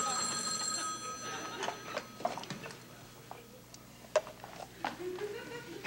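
Telephone bell ringing indoors in a 1978 sitcom scene, a repeated ringing tone running steadily through the clip with irregular clatter and light background noise, heard without clear speech over it.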